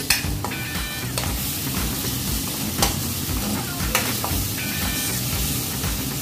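Chaap fries in a pan with a fiery red chili paste while being stirred, a constant sizzle over which the utensil scrapes and knocks now and then, close up and without speech.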